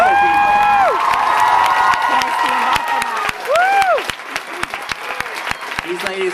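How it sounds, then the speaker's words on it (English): Loud crowd applause and cheering at an in-store music show, with whoops and shouts on top, continuing steadily throughout while voices call out over the clapping. "Huge round of applause."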